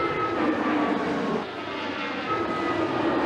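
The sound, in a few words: airplanes taking off and landing on runway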